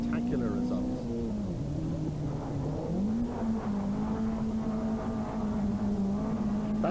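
A rear-wheel drive Peugeot rally car with an Opel 400 engine, racing in the 1988 Donegal International Rally, drones at a steady engine pitch with shifts and revs, heard under a commentator's voice.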